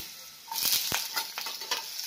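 Thin, long-sliced potato sizzles softly in hot oil with fried cumin, the quiet hiss broken by a few sharp stirring clicks and taps over about two seconds.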